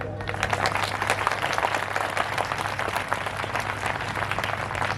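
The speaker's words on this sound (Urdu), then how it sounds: "تو آپ کے ہاتھوں کی تالیاں یہ بتا سکتی ہیں کیا یہ صحیح ہوا۔" Dense, steady audience applause at a hospital gathering, loud and sustained, with many hands clapping together and no voices over it.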